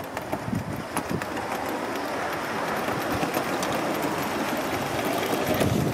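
A gauge 1 radio-controlled live steam model locomotive spits water, giving a steady, close, broadband hiss and sputter with small irregular pops, continuous for the whole span.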